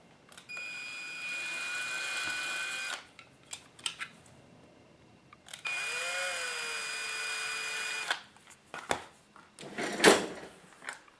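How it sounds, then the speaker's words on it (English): A power drill boring holes in a plastic RC model part whirs in two sustained bursts of about two and a half seconds each, with the pitch dipping as it bites, followed by scattered handling clatter. "I'm going to use my drill here."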